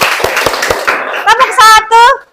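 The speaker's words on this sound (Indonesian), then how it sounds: "yuk kasih tepuk tangan" Hands clapping in a room full of children: several sharp, evenly spaced claps at first, then children's voices chanting and speaking over them.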